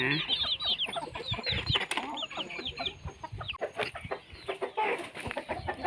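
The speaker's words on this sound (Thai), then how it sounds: "เลี้ยงไก่บ้านไก่ตีนะคะ" Backyard fighting hens and roosters cluck and squawk in quick overlapping bursts close by, a restless flock with a brief crow-like call and scattered rustling, little else underneath.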